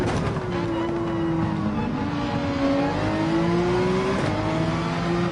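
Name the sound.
race car at full throttle in video game Gran Turismo 7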